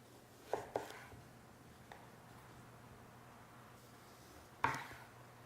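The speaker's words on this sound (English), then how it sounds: "then you're going to slice off the ends of the eggplants" A kitchen knife cuts the ends off eggplants on a board with a few sharp chopping knocks: two close together early, one faint tap, then a single firmer cut, in quiet surroundings.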